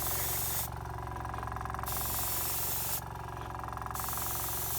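Airbrush spraying ink onto a painted miniature, a steady close hiss that cuts out briefly twice between passes, with a faint background hum throughout.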